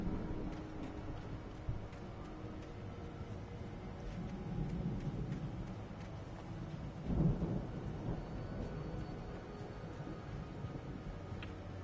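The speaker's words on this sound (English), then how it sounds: "The storm raged on" Thunderstorm in the video game Alan Wake, with steady rain hiss and a low rumbling of thunder that swells to a heavier roll midway, moderately quiet and without speech.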